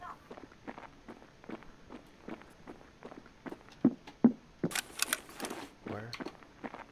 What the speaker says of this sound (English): I hear two sets of footsteps, hold on.